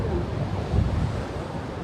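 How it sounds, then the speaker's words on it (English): Rough sea waves crash against the rocks below Morant Point Lighthouse in St Thomas, Jamaica, a steady heavy wash of surf with one swelling surge, mixed with wind rumble on the microphone. "Look at the water hitting the rocks."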